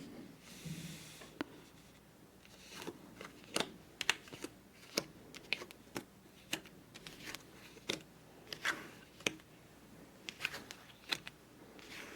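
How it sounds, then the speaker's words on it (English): Playing cards are moved across a table during a Monte Carlo solitaire game, giving faint, close, intermittent soft slides and crisp taps spread through a quiet room. "So let's move the cards again."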